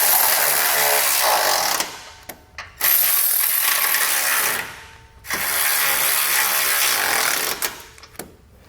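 Ratchet with a 16mm socket tightening bolts on a base plate under a 2020 Jeep Cherokee, giving three bursts of rapid clicking close up with short pauses between them and no talk.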